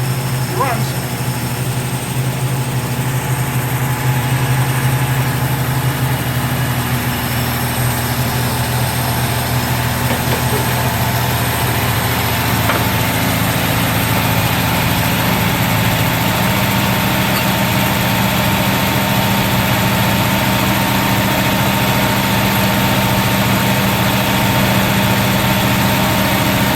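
An AMC 6-cylinder car engine idles in a steady, loud, continuous drone with a low even hum and no change in pace throughout.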